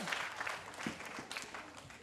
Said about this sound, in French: C'est bien de l'applaudir pour l'encourager.